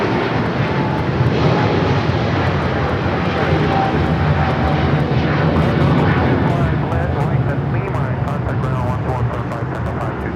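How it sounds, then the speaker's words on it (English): A Philippine Airlines Boeing 777-300ER takes off at Los Angeles airport, its deep, steady jet engine roar filling the scene continuously with people talking over it. "This is Philippine Airlines 113 taking off to Manila on the 777-300ER"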